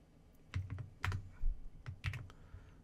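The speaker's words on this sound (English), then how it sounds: "I'm going to hit D on the keyboard." Computer keyboard typing in short bursts of several crisp key clicks, close and fairly quiet, with pauses between groups of presses against a faint room background.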